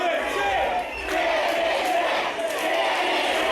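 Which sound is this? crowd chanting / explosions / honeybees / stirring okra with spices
crowd chanting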